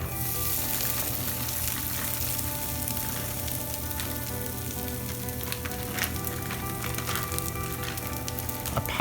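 Simply Potatoes steakhouse seasoned diced potatoes fry in a warm pan, a loud, continuous crackling sizzle heard close up with no voices over it.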